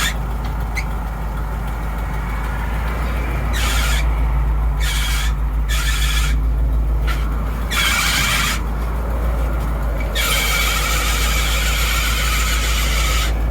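A 1972 Ford COE C600 truck with a 361 engine idles while its struggling power steering pump squeals and whines in repeated bursts over a low, steady engine rumble.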